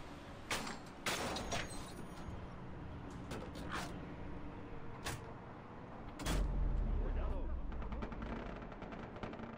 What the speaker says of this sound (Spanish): Y estoy escuchando tiros